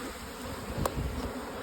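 Honey bees buzz around a hive during honey harvest, a steady, droning hum close by that continues throughout without pause.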